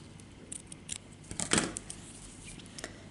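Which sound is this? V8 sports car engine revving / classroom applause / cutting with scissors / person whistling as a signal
cutting with scissors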